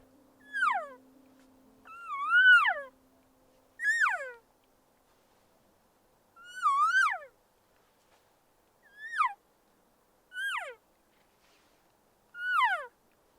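Seven soft, high, descending mewing calls imitating a cow elk, each brief and spaced a couple of seconds apart, stand out against near silence.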